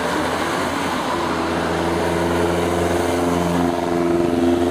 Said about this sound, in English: And the cars are on the road